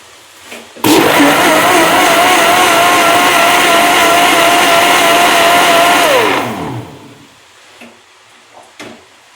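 A blender whirs loudly and steadily while mixing a milkshake, running for about five seconds before the motor winds down and stops, followed by faint kitchen handling sounds.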